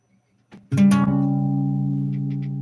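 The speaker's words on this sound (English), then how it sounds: "It's a basic diminished chord" A single sustained diminished chord rings out after a soft pluck, holding steadily and slowly fading, with a dark, tense quality.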